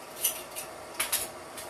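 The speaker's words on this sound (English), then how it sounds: "Let me stir this here for a second" A spoon scrapes and swishes through a peach pudding mixture in a pot, making a few brief, crisp metallic scrapes in quick succession, close and fairly quiet with no talk.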